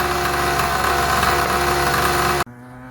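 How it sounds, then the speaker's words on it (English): A small gas engine fitted to a Razor MX350 scooter, converted from electric drive, runs steadily and loud for about two and a half seconds, then cuts off sharply, leaving a quieter hum behind. "That's the MX350 with a gas conversion."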